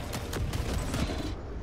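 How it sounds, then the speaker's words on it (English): Autocannon fire in the shooter game Helldivers 2, a rapid series of loud, heavy bursts repeating steadily amid dense battle noise, with no talk over it. "Can this auto cannon take this thing out or no?"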